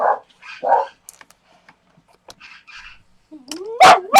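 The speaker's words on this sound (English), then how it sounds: "there's going to be a lot of barking" A dog yips and whimpers in short bursts with pauses between, then gives louder, sharper barks up close at the end.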